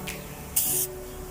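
Compressor-driven spray gun painting old car rims, a single loud hissing burst of about a third of a second, close up, with quieter shop background before and after.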